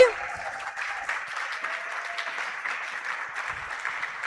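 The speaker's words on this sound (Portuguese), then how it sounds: "Uma salva de palmas." Steady applause from a church congregation during a worship service fills the whole stretch, dense clapping at an even level, fairly close.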